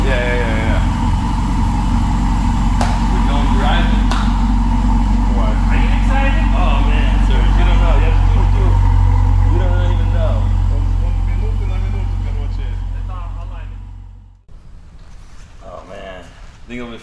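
Ferrari 488 Spider engine running steadily with a deep low rumble and cabin hum, voices chatting over it before it cuts off near the end and the talk continues.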